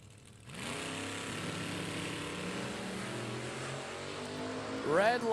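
Nitro funny cars with 427 and 572 cubic inch Chevy engines at a Hot Rod Heritage Series drag race, a loud sustained engine roar running steadily after a quiet start, rising at the end with a brief high whine.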